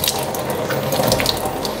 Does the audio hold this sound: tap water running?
yes